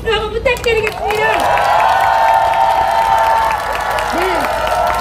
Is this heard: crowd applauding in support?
yes